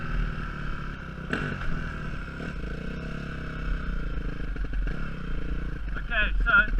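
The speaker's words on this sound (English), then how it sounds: "So I'm going to do a few wheelies now just to show you guys" A dirt bike engine revs in short bursts during wheelie practice, moderately loud with some clatter and scraping, the throttle rising toward the end.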